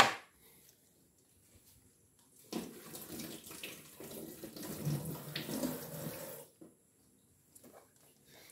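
Onions are rinsed under a running kitchen tap, water splashing steadily for several seconds before shutting off, with brief handling noises before and after and no talking.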